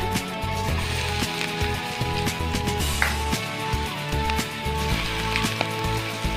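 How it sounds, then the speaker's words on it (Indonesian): Garlic sautéing in a pan with a steady, crackly sizzle and scattered pops, close by and continuous, with occasional clinks over the frying and no voices. "kita tumis dulu bawang putihnya"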